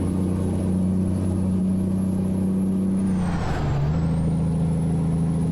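A heavy truck's air brakes in American Truck Simulator release a hissing burst as the loud, steady engine drone dips in pitch, then settles back to its constant rumble.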